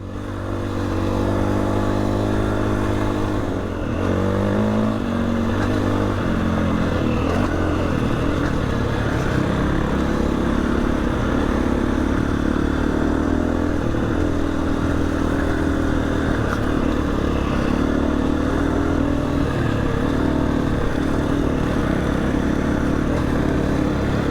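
A motorcycle engine drones steadily and loudly while riding a rough trail, with shifting pitch as the throttle changes and constant wind and rattling from the uneven ground throughout.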